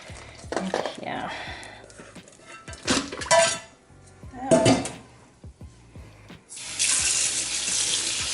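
Running cold tap water pours steadily into a metal bowl near the end, preceded by clattering dishes and brief bursts of water in a kitchen.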